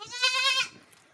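A goat gives a single short, loud bleat close by, wavering and nasal, then quiet follows.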